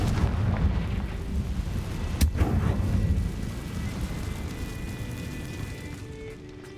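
A Confringo fire spell bursts in Hogwarts Legacy, a sharp explosive crack around two seconds in over a dense low rumble that fades gradually into quieter ambience.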